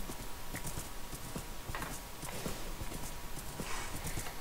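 Horse hooves clip-clop steadily in Minecraft version 1.8, a quick, even rhythm of hollow taps that runs throughout over a constant low game background, with no talking.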